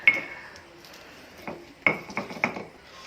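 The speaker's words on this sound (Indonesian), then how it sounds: "di sini kita ulek sampai halus" Spices being ground with a stone pestle in a stone mortar (ulekan), a few sparse hard knocks and scraping clinks, mostly quiet between a burst of strokes near the end.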